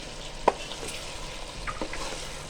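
Noodle biryani with chicken korma is stirred and mixed in a pot, giving soft scraping and stirring sounds with a few light clinks over a low sizzle, close and fairly quiet with no talk.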